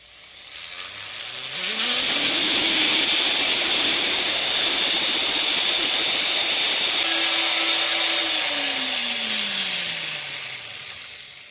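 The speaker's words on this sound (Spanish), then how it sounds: "Primero vamos a lijar el cabujón con una lija 280." A small power tool whirs steadily as it sands a copper cabochon with 280-grit sandpaper, its motor winding up, holding a high whining drone with gritty scraping, then winding back down.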